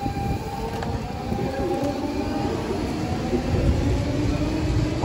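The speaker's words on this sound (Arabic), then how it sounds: "هذا التران ماشي المترو، المترو كاين فوق." Train passing on a rail line in Denmark, not a metro, with a steady loud rumble and rolling wheel noise throughout, rising slightly near the end, no talking.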